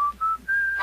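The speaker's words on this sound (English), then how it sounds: "Give a little whistle." A person whistles a short tune of three clear, sustained notes, each rising slightly in pitch, close and alone without speech.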